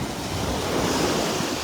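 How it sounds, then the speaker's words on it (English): Surf on the beach at Del Nor-Wiggins Pass State Park in North Naples, Florida, a loud, steady wash of rough waves mixed with wind noise buffeting the microphone. "We're walking the beach at Del Nor-Wiggins Pass State Park."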